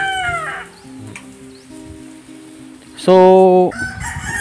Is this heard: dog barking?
no